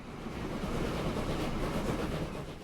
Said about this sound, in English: Looks like we just met the Tombstone passenger train just leaving the platform.